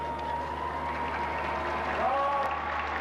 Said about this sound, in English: Now hear the crowd roar as they step onto the shore